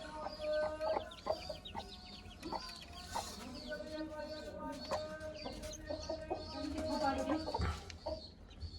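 A hen with six newly hatched chicks: soft, low clucking mixed with thin, high peeping from the chicks, close by, while someone talks quietly in the background.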